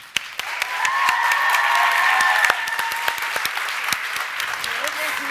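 A ceremony audience breaks into sustained applause for a student called onto the stage, a dense, steady clapping that swells and then slowly thins, with voices and some music heard under it.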